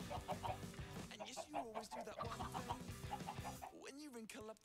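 Chicken clucking in a survival video game, a busy run of short clucks and chirps layered over game music, loud and close, with a voice briefly heard near the end.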